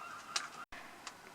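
A seagull gives two short, harsh honking calls, close and fairly faint, separated by a brief gap of silence.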